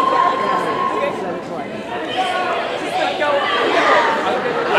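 A large convention panel audience murmurs and calls out in a dense, agitated crowd chatter that fills the whole stretch, loud and continuous with overlapping voices and no single speaker standing out.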